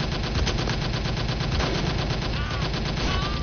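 Rapid machine-gun fire in the VR shooter Operation Warcade, a steady dense rattle of bursts continuing throughout, loud and close.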